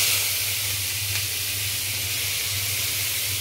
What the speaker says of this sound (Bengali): এখন আমি এই যে এতগুলো পেঁয়াজ আর মরিচ আমি এই কড়াইতে দিয়ে দিব